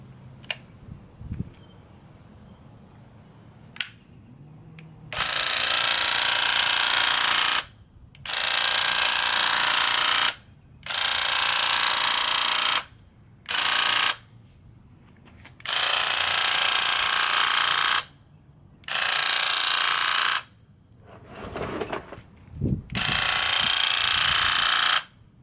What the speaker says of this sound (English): So I'm going to use this paint sprayer and we're going to get this baby painted.